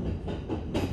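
A Kintetsu limited express train runs on its rails at a junction where the Nara Line branches off, giving a steady loud rolling rumble with rhythmic clickety-clack swells from the wheels, heard from inside the car.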